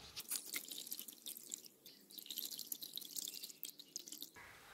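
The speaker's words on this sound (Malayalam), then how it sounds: "ഏകദേശം അരിച്ച് കഴിയാറായി, ബാക്കിയും കൂടെ കുറച്ചുകൂടെ ഉണ്ട്" Liquid organic pesticide for leaf curl drips steadily while being strained, a close run of small wet drops and trickles that stops abruptly near the end.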